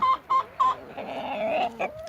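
Several short, bright clucks from three hens and a rooster, then a longer drawn-out call and a few more clucks, close by with no talking.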